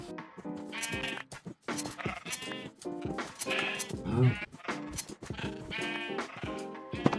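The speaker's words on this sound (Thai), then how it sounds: "แกะนี่ก็ร้องจังเลย" Sheep bleating in the Minecraft video game, several short wavering bleats repeating through the clip alongside game sounds, with a voice speaking over them.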